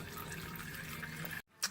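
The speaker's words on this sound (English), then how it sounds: "We poured all the dirty fluid into our measurement container." Used Honda Pilot transmission fluid is poured into a measuring container, a steady close trickling and splashing of liquid that stops abruptly near the end before a short clatter.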